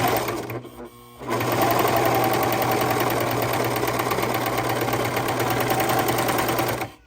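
A serger sewing machine with its timing off runs at steady high speed, a loud, rapid mechanical chatter that starts after a short pause and continues evenly, close up, with no one speaking.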